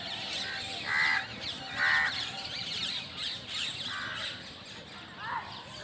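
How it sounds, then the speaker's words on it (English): Crows cawing repeatedly in Lodhi Garden, Delhi, a park with mosques and greenery, the harsh calls coming in bursts over a steady background of other birds. "here you can hear a lot of birds here"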